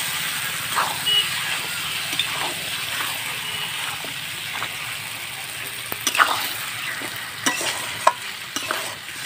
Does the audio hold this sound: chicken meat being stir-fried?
yes